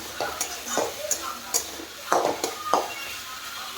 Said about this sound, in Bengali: খুব ঘুটে দেবো ভালো করে।